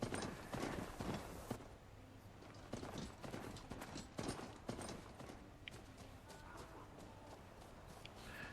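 Hoofbeats of a ridden mount in the video game Horizon Forbidden West clip-clop in a steady trotting rhythm, close and fairly loud, with faint mechanical clanks and no music or talk.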